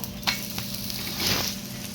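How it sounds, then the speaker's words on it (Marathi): Methi thalipeeth fries in oil on a pan, a soft continuous sizzle close by with a couple of brief scraping touches. "आता दुसरी बाजूला व्यवस्थित शेकून घ्यायची"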